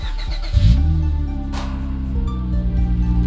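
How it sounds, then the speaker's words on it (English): A car engine cold start: it cranks and fires up, catching with a loud surge, then settles into a steady, lumpy high idle rumbling close by. "Starting it up, ready? Cold start."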